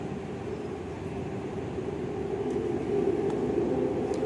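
A light rail (LRT) train runs along its track, giving a steady, fairly loud rumbling roar that builds a little toward the end, with a few faint high squeaks and no talking.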